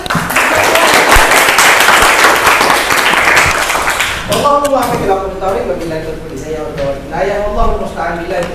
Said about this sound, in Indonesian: Sebelumnya tepuk tangan dulu deh.